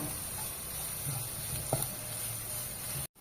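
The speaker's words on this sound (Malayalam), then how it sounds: "ഒരു കഷ്ണം ഇഞ്ചിയും രണ്ട് പച്ചമുളകും കുറച്ച് വേപ്പിലയും കൂടി ഇട്ട് നന്നായിട്ട് വഴറ്റുക" Ginger, green chillies and curry leaves sautéing in a pan with a steady, even sizzle and a single faint clink of stirring partway through, cut off abruptly near the end.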